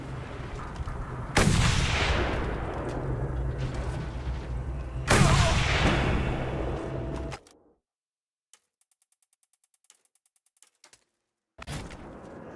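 Gunfire in the Mad Max video game: two loud, heavy blasts with long rumbling decays, then near silence with faint ticks before another burst starts at the end.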